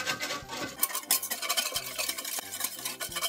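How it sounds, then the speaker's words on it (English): Gravy being stirred in a roasting pan for roast beef, with repeated scraping and clinking strokes against the pan, close and steady, and no talking. "Keep stirring because you don't want lumpy gravy."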